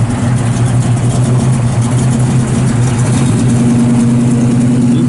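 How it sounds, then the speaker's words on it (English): A 1964 Chevrolet Chevelle Malibu SS V8 idling up close, a loud, steady low burbling rumble with an even engine tone throughout and no talk. "Zippy motor in it."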